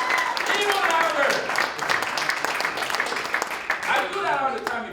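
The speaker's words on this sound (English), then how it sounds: "Use your hands, keep clapping, keep clapping" An audience claps along at a leadership speaking event, with rapid hand claps running steadily underneath a man's loud, continuous talking.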